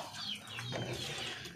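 Lohmann laying hens in a backyard coop cluck softly with short, overlapping calls at a modest distance, with no talking over them.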